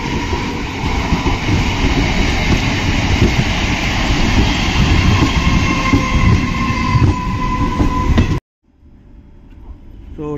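An AC passenger train out of Howrah rumbles loudly and steadily along the rails, with a dense wheel-and-carriage roar. It cuts off abruptly near the end to a much quieter interior hum.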